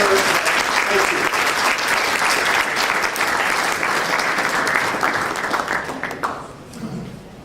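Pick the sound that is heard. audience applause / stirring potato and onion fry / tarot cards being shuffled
audience applause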